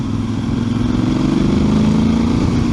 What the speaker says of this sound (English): it just picks up no problem in fourth there at 20 odd miles an hour